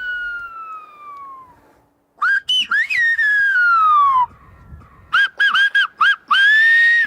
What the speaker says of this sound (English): However, fewer and fewer people use the whistling language.